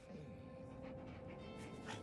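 Dog whimpering and panting close by, a steady stream of soft breathy pants with faint whines running through the whole stretch, mixed with low indoor background noise.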